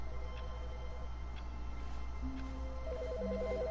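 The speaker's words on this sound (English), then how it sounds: "There's a phone ringing." A telephone rings in the video game The Stanley Parable, a repeating electronic ringtone warbling in short bursts over a steady low background hum, fairly quiet and with no voices.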